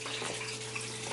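Hot water runs from a tap in a steady, faint hiss and rush, with a low constant hum from a taco hot-water circulator underneath.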